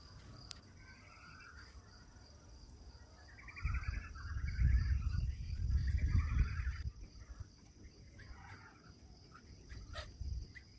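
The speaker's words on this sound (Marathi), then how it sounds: "पक्ष्यांचा किलबिलाट आणि ही सकाळची पहाट" Morning birdsong at dawn in a rural village setting: repeated bright chirping phrases over a steady cricket-like hum, with a louder rustling low rumble building in the middle before fading back.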